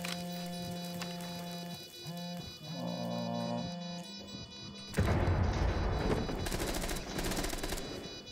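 Automatic gunfire in Rainbow Six Siege, starting with scattered shots under music-like tones and swelling into a loud, dense burst of rapid fire from about the midpoint on.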